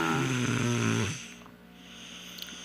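A young boy snores loudly in deep sleep, a rough rumbling rattle for about a second, followed by quieter breathing and faint room sounds.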